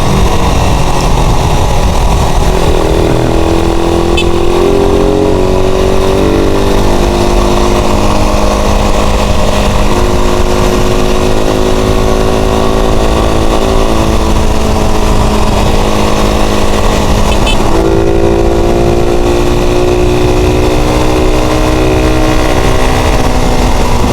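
Suzuki Raider 150 motorcycle engine while riding, loud and close, with a steady buzzing drone that rises and falls through gear changes and throttle shifts, no talking.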